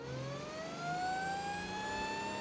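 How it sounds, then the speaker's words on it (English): Rising electronic siren wail from an Autobello Stambecco fire rescue vehicle in the driving game BeamNG, climbing steadily in pitch over a low engine hum, loud and alone. "Turn on the lights and the siren."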